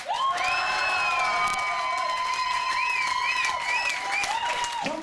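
A live crowd claps and cheers for a rock band after a jam, steady applause with whoops beneath sustained, sliding electric guitar feedback tones.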